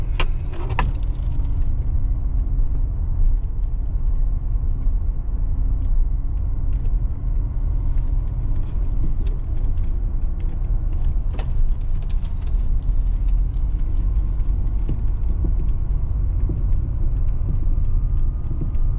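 A car drives along a road in Kato Paphos, Cyprus, with a steady interior rumble of engine and tyres throughout and a few faint clicks and rattles.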